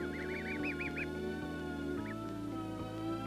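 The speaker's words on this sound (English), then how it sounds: "the goslings have taken over, and without any apparent fear or confusion, walk among the giants" Goslings give a run of high, wavering peeps at a campsite, fairly faint over a steady low hum and background drone, with no talking.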